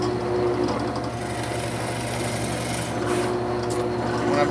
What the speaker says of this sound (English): When I'm drilling, I drill down and then I pull back up to release all those chips off of the bit.